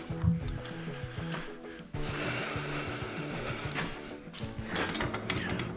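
A bolt being tightened on a John Deere front end loader attachment, heard as a steady, close, repeated ratchet clicking that runs continuously, with a short pause partway through before the ratcheting resumes.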